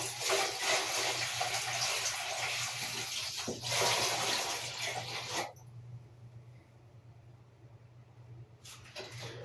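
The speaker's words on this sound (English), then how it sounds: "Either way, the water goes in." Water from a tap pours into a bathtub in a steady hiss that stops abruptly partway through, leaving faint room noise before a brief splash near the end.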